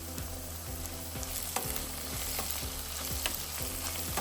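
Cooked onions frying in a pan with sesame seeds, a soft continuous sizzle with regular scraping and tapping strokes as a utensil stirs the mixture against the pan.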